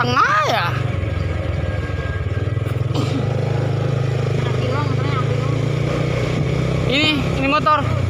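A four-year-old motorcycle running while ridden through a morning market in central Jakarta, its steady low engine drone continuing beneath people talking throughout.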